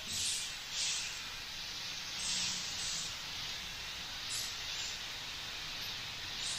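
A Creos PS290 0.5mm airbrush sprays in a steady airy hiss that swells and eases with the trigger over several seconds, close and fairly quiet.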